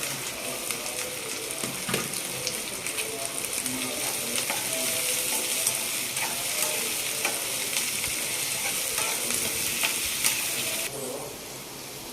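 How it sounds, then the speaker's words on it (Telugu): Chopped onion and green chillies hit hot oil in a pan for a Telugu ridge gourd curry, giving a steady, loud, continuous sizzle with occasional stirring clicks, close up and without talk. "ఇప్పుడు ఆయిల్ హీట్ ఎక్కిందండి. దీంట్లో ఆనియన్, పచ్చిమిర్చి వేసేస్తున్నాను."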